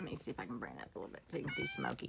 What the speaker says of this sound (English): So if you hear any meowing, that's him.